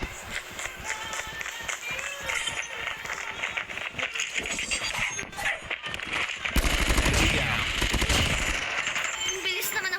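Rapid bursts of automatic gunfire from a video game, crackling steadily at mid distance over continuous game noise, with a voice talking faintly underneath.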